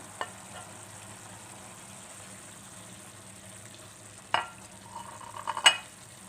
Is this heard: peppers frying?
yes